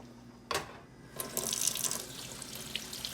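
Tap water runs into a kitchen sink as an onion and pepper are washed, a close splashing stream that starts abruptly and continues, with a few drips and clatters.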